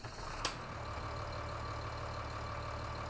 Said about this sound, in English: Got a tractor sound effect to it.